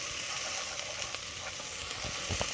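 Garlic being stirred into a sizzling pot, a bright continuous sizzle with scattered spoon scrapes and taps, close and fairly loud, with no talking.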